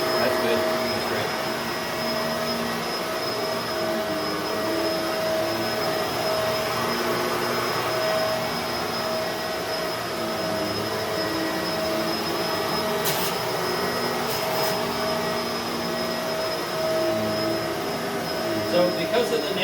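Bissell MultiClean Allergen Lift Off Pet upright vacuum runs steadily throughout, a loud continuous motor whine with a fixed high tone over broadband airflow hiss, with a couple of brief brushy bursts partway through.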